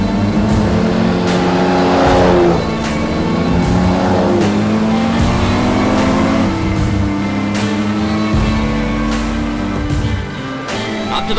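A historic Aston Martin sports car races toward the finish at Goodwood Revival, its engine roaring loudly and rising and falling in pitch through gear changes, with rapid clicking bursts over the steady drone.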